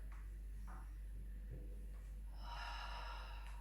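A single breath drawn in through the nose during a Pilates exercise, a soft close inhale rising near the end over a steady low hum, with no talking.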